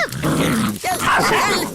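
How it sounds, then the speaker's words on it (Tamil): A dog growls and snarls loudly up close, a rough low rumble with short throaty outbursts. "நாய் பிடிக்கிட்டு போயிடுச்சு"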